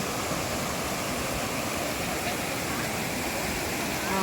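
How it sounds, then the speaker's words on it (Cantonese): Fast river water rushes through a gorge in Arxan National Forest Park, making a dense, continuous roar with no pauses, loud and unbroken. "只有呢度有湍急嘅河水"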